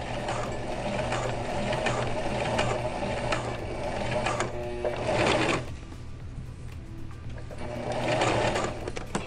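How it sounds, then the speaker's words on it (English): A sewing machine stitches pajama pants fabric in steady whirring runs, close and loud, pausing briefly midway before a back stitch at the end of the seam. "And we're going to back stitch one more time."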